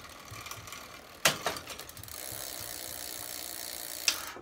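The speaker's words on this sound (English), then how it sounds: "Drop it down, it jumps down, click it once," Clicks and a ratcheting whir from a Mongoose ALX bicycle derailleur shifting gears, with a sharp click, a few quick follow-up clicks, a steady spinning drivetrain whir, then another click near the end.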